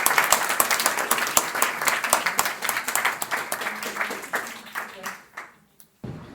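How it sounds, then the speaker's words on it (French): An audience at a French conference talk applauds loudly for a performer arriving on stage. The clapping is dense at first, then thins into scattered claps before stopping. "on peut applaudir bien fort Claire qui va arriver sur ça"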